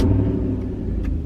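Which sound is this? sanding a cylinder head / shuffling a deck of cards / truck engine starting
truck engine starting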